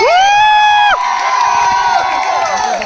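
A theatre festival crowd cheers loudly for Team A, opening with a sustained high whoop from many voices, then settling into scattered shouts and crowd noise.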